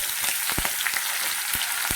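Small chopped onions frying in hot oil with cinnamon, cloves and cardamom, a steady loud sizzle with crackling pops throughout, heard alone.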